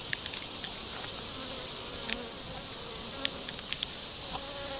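Honey bees swarm around an opened hive during an inspection after a split, a steady, dense buzzing hum close by, with a few brief knocks and clicks from the frames.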